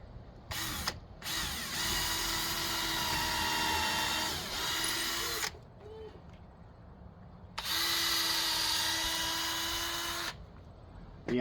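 A power tool cuts a beam for a truck camper build in two loud sustained runs of about four and three seconds, with quieter clatter between them.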